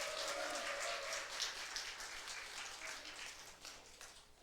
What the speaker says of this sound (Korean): 오늘 최고의 찬양으로 하나님께 영광 돌린 우리 유치부 성도님들께 귀한 박수 한 번만 더 부탁드리겠습니다